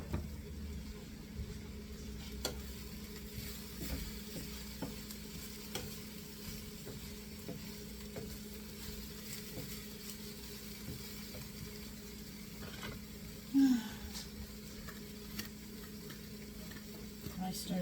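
Dry veal, pecan and bourbon meatloaf mixture with breadcrumbs is stirred in a pan, giving steady scraping and sizzling with a brief louder clatter partway through, and no talking.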